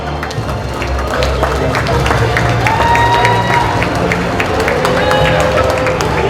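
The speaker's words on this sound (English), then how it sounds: "Please give the executive board a round of applause." A crowd claps and cheers loudly and steadily, a dense wash of applause with some murmuring voices mixed in.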